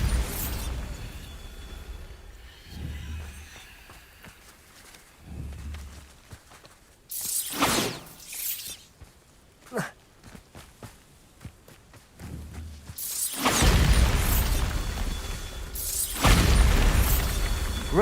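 Bombarda blasting spell from the video game Hogwarts Legacy: several heavy booming explosions, the strongest a long, loud roar near the end, with low thuds, rumbles and mechanical clatter between them and no talk.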